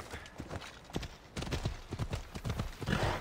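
Hoofbeats of a horse galloping in the video game Assassin's Creed Odyssey, a fast, steady clip-clop rhythm of repeated thuds close by, with a brief neigh-like snort amid the run.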